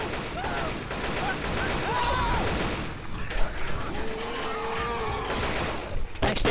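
Gunfire during a Left 4 Dead 2 No Mercy versus match, a steady dense stream of rapid shots running through the whole clip, close and loud over busy game noise.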